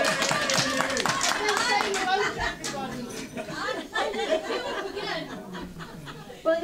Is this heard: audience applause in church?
yes